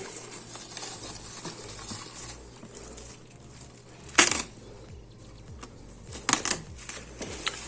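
Sparse clicks and clacks of keys being pressed on a MACHENIKE K500 B94 mechanical gaming keyboard, with a couple of louder sharp bursts of rapid key taps over quiet background.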